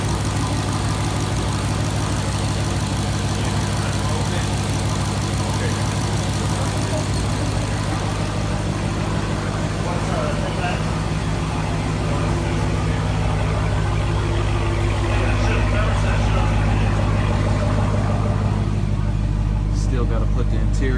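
A 2018 Hellcat engine swapped into a 2011 Dodge R/T idles at first startup, a steady deep rumbling drone with a strong low hum, running continuously and close throughout.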